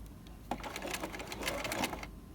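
A sewing machine runs a straight stitch along a sleeve's underarm seam, a close, steady rapid whirring and chattering for about a second and a half with no talking.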